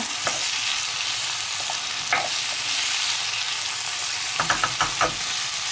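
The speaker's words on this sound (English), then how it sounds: "You can turn up the heat again, put it on maybe like a medium heat just to get these vegetable sweating a little bit" Chopped vegetables sizzling in a pan over medium heat for a lamb chop stew, a steady hiss with a few sharp utensil clicks and scrapes toward the end.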